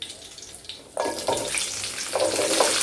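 Tempering spices splutter in hot oil in a pan while making chicken uppu kari, starting quietly and then breaking into a loud, close, crackling sizzle with irregular popping bursts and no voices.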